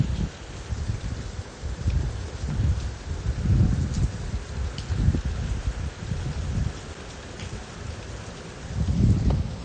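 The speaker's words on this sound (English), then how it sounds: "Right now, I'm getting light rain." Light rain falls during a Miami thunderstorm, a steady wash of patter with gusting low rumbles of wind or distant thunder swelling and fading several times, loud and close with no voices.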